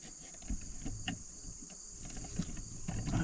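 Yellow jackets swarm around a nest beneath a tractor outdoors, a steady high insect drone with faint buzzing passes and low rustling below.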